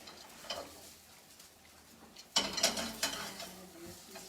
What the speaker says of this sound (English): I'm adding the pepperoni because it's the highest fat content, so it's gonna release some of its fat into our onions.